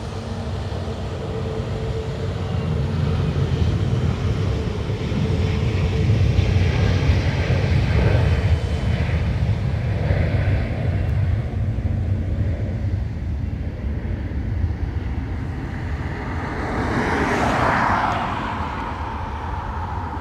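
A Ryanair jet departing Dublin Airport for London Gatwick produces a broad, loud engine roar that swells and slowly fades over about twenty seconds, heard from a distance with no talk.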